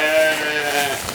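A single sheep out on pasture gives one clear, close, wavering bleat lasting about a second, loud and heard alone.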